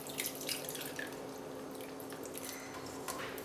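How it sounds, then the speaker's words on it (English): Iced water poured over fresh cultured butter in a medium bowl, a close, continuous watery pour with dripping splashes lasting a few seconds. "now pour iced water over the butter"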